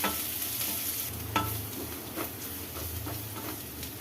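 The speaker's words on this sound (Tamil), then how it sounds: "இப்போ இது எல்லாத்தையும் நல்லா வதக்கிக்கலாம்." A spoon scrapes and stirs cabbage and salt in a pan over a soft, continuous sizzle, with repeated scraping strokes, while making cabbage rice.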